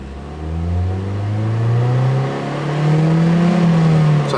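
A Ford Focus engine revs loudly up close, its exhaust droning and rising in pitch over several seconds, then dipping and climbing again.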